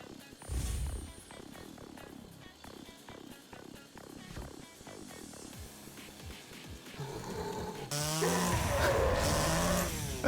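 A chainsaw in an indie video game revs in a long series of rising and falling whines, then swells into a louder, harsher roar toward the end.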